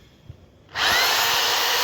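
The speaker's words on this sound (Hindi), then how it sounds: "ये ड्रिल मशीन है" A Hilti drill machine set to drill mode starts up after a moment of quiet room noise, then runs with a loud, steady, high-pitched whine that holds evenly to the end.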